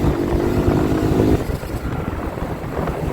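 A motorcycle ridden fast on a road in Uttarakhand, with a steady engine drone and heavy wind buffeting the mic; a sustained engine tone drops away partway through as the rumble continues.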